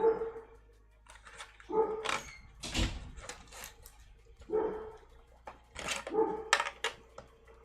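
Indoor dogs bark repeatedly in clustered bursts of sharp, close barks separated by short pauses, loud and alone without talk.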